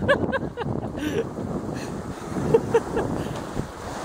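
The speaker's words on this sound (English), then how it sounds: "Running downwind like this, it's rocking around a lot." Sailboat running downwind at about 7 knots, with gusting wind buffeting the microphone over the wash of water along the hull, and rocking creaks and a few faint knocks mixed in.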